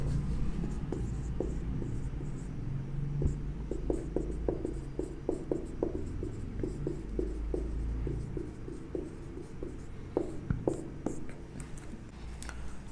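Chalk or marker strokes on a board during a class 9 chemistry lecture: a steady series of short taps and scratches, fairly close, with no talking.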